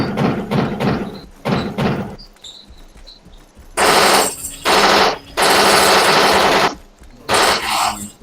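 A Bradley autocannon firing HE rounds in a video game, loud rapid bursts of heavy thudding shots, several separate volleys with short pauses between them.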